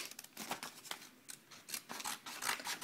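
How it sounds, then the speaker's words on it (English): Scissors snip and slide through a mailed trade package, a quick series of close, crisp cutting strokes with rubbing and rasping of the packaging material, alone and fairly quiet. "I'm just gonna use my scissors. Okay. This is us, and I'm just gonna cut it open."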